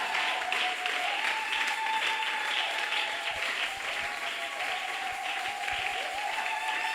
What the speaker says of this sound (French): Est-ce qu'on peut applaudir pour Jésus-Christ?